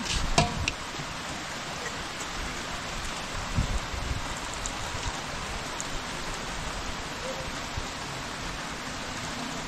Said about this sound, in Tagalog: Nakulong naman tayo ng ulan.